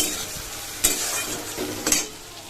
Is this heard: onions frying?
yes